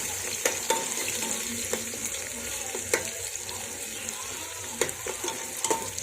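Sliced onions fry with spices in a pan for masale bhat, giving a steady soft sizzle broken by occasional stirring scrapes and clicks, close and moderately quiet, with no talking.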